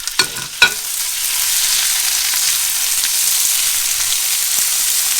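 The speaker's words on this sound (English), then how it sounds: "So what I'm going to do next is I'm going to add my vegetables. They're going in there." Vegetables hit a pan of tortilla chips for San Antonio-style migas with a couple of quick clattering knocks, then settle into a loud, even frying sizzle close by, with no one talking.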